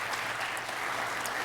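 A crowd claps together in a continuous, steady burst of applause for school principals at a strategic plan presentation, moderately distant.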